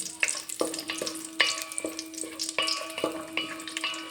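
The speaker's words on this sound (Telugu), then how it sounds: "ఇప్పుడు ఇందులో జీడిపప్పు, కిస్మిస్ యాడ్ చేసుకుంటున్నాను. ఒకసారి బాగా ఫ్రై చేసుకుందాం." Cashews and raisins fry in ghee for a kheer, a continuous close sizzle broken by repeated scrapes and knocks of a spoon stirring against the metal pan.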